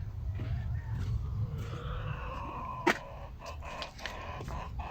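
Chickens cluck and murmur nearby over a low background hum, with a rooster-like call rising briefly partway through.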